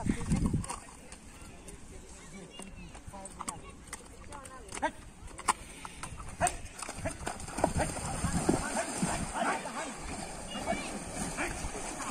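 A horse being led into a lake to swim sends faint hoof clops and splashing through shallow water, heard at a distance under people talking nearby.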